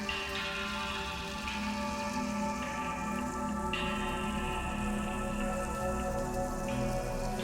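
A heavy rain downpour falling steadily on stone steps, a continuous dense patter and hiss without pause, fairly quiet and even throughout.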